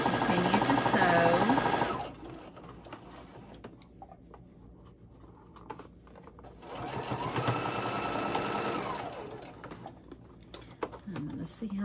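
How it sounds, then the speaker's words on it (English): Sewing machine stitching fabric for a small scrunchie, running in two steady bursts of rapid mechanical whirring, close and fairly loud, separated by a quiet pause. "Continue to sew."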